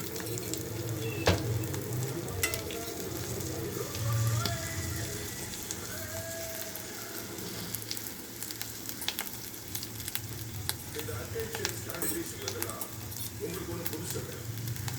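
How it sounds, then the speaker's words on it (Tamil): Baby potatoes fry lightly in a pan, a steady crackling sizzle running throughout with occasional sharper pops and faint stirring, while a person talks over it. "லைட்டாக ஃப்ரை பண்ணி விடுங்க. லைட்டாக அப்பப்போ திருப்பி விடுங்க."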